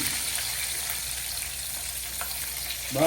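Marinated chicken, KFC style, deep frying in hot oil, a steady loud hissing bubble running throughout with a faint clink near the end.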